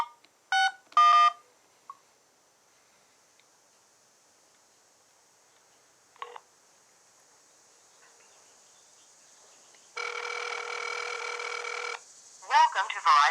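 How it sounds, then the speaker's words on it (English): A Pantech Perception phone on Verizon makes a test call: a few quick keypad dialing beeps, then a lone beep, then a steady ringing tone, each clear against quiet gaps. "finally we're gonna take a look here at the dialer application, and we're gonna do a test call just to test the quality"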